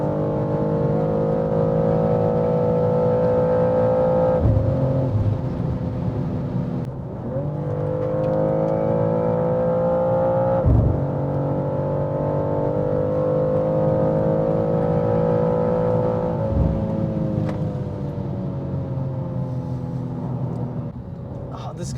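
A 2023 BMW M2 G87 engine pulls hard through repeated accelerations from 100 to 200 km/h uphill on the Autobahn, pitch climbing then dropping at each gear change, loud and steady for the whole stretch.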